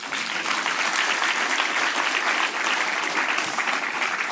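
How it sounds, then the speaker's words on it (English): An audience at a conference on Israel after October 7th claps steadily, a dense, even wash of many hands that holds loud and unbroken from start to finish with no voices over it. "You're going to give a round of applause for it."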